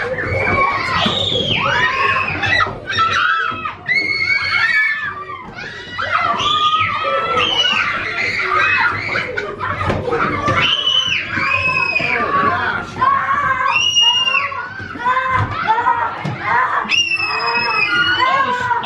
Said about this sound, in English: There's a lot of children screaming inside of the heart here.